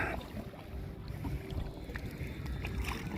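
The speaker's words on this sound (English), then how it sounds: "Just gonna paddle." A paddleboard is paddled on the sea off a beach, giving soft, irregular water swishes and splashes under steady wind noise on the microphone. No one speaks.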